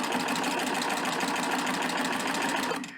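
Serger running on a rolled-edge setting while stitching cording into a braided handle: a fast, even mechanical whir with rapid stitching pulses, loud and close, winding down at the very end with no talking.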